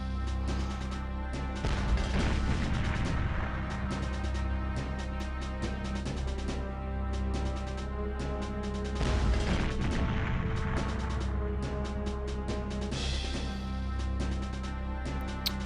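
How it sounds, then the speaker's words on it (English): Grenade launcher explosions in the Nintendo 64 game GoldenEye 007, a dense run of loud crashing booms and blasts over steady game music, repeating throughout with heavier bursts near the start and middle. "Do love the grenade gun. You gotta be careful actually firing it to this wall"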